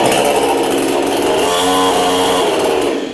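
A chainsaw engine, running off a generator, revs loudly and steadily at close range, its buzzing whine holding for a few seconds before easing off.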